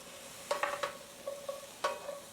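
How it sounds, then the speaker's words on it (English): Shiitake mushrooms and asparagus saute over high heat in a pan, a soft sizzle broken by a few distinct clinks and scrapes from a stirring utensil, with no speech. "All right, so we're just sauteing these."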